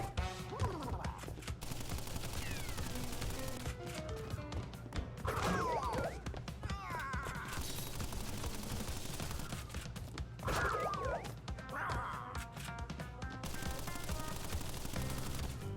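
Enemy gunfire in a Crash Bandicoot boss fight, sustained rattling bursts and crashes mixed with game music, whooshes and impact effects, fairly steady and busy throughout.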